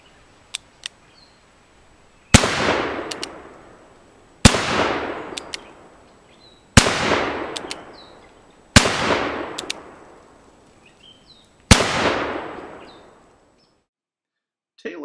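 An Uberti replica of the Smith & Wesson New Model No. 3 revolver fires five loud, sharp shots at a shooting range, spaced about two seconds apart, each ringing out into a long decaying echo.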